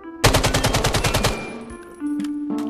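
A rapid burst of about a dozen loud gunshots from a firearm in the Vail VR shooter, followed by a fading tail and softer handling sounds, with no talking.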